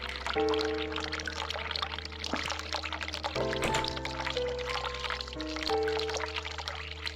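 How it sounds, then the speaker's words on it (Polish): Water pours steadily into a sink in the video game The Cat Lady, a continuous splashing stream that runs for several seconds beneath sustained electronic music tones. "tu się dalej woda leje. Zlew."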